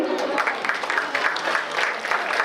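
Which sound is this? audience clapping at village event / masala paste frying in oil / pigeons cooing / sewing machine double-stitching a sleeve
audience clapping at village event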